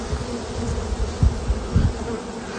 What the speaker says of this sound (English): You see all the bees I dumped down in there.